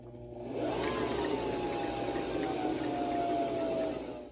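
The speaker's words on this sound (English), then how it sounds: "I am going to gently press on that foot pedal and get the sewing machine going" A Brother LX3817A sewing machine runs steadily while winding a bobbin, giving a continuous even motor whir with a faint rising whine that holds for several seconds, close and fairly loud with no talk.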